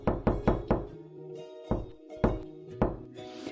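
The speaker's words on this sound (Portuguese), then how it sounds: "ele foi à casa da porquinha e bateu na porta" Knocking on a wooden door in a children's telling of the three little pigs: several firm, close raps, first a quick burst of three, then single knocks spaced apart, with a faint low hum between them.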